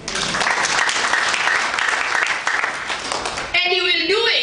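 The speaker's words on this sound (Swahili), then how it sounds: "Tuwapigie makofi." An audience at a nutrition business seminar in Nairobi claps loudly and steadily for a few seconds, then the clapping gives way to music and a voice.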